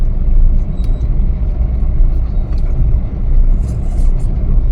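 A car travels on a road trip, heard from inside as a steady low engine and road rumble, continuous and fairly loud with no clear breaks.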